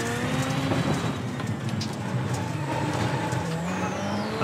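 A Ford Fiesta rally car in the iRacing game drives on the Daytona dirt course, its engine droning and revving loudly and continuously with tire rumble and no talk.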